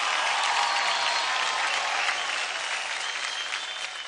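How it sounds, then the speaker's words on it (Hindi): Loud, sustained applause from a large television dance-show audience, dense clapping that holds steady and fades slightly toward the end. "तो इसी के साथ जोरदार तालियां हो जाए टीम जोश की डांसिंग स्टार रुशाली और लिल मास्ट"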